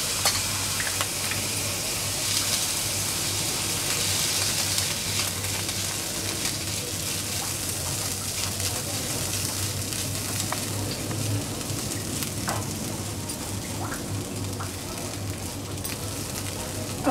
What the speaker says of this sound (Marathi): आणि ते परतून घेऊया आपण।